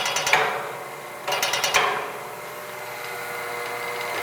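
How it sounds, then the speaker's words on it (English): Auger rotating inside a Per Fill PF-11 auger filler, run by foot pedal: two short bursts of rapid mechanical clicking and knocking about a second apart over steady machine hum, close by. "you'll hear the auger rotate"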